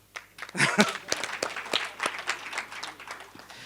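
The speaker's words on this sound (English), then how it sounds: "Can I get a clap?" An audience at a youth-event presentation in South Africa breaks into scattered, moderately loud clapping that builds quickly and continues steadily, with a few sharper individual claps standing out.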